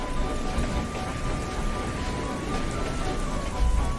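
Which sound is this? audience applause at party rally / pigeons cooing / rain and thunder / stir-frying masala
rain and thunder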